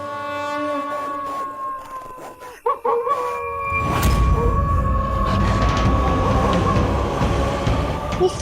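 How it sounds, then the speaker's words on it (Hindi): Wolf howl in a devotional drama about Krishna: sustained tonal wailing rises and wavers, layered over a swelling rumbling bed of dramatic sound that grows loud midway and stays dense to the end. "जे तो भेड़िए की गुर्राहट है"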